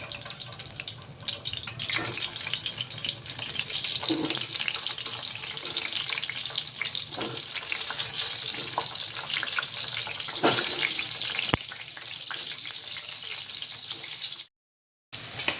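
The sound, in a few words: stuffed tinda (dhemas) frying in oil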